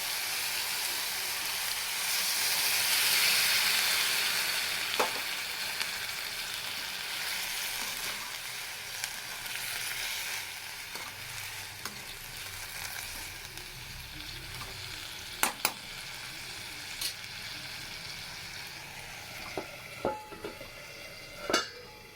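Fenugreek leaves fry in a pan with a steady, close sizzle, broken by a few sharp clicks and scrapes of stirring; no one speaks.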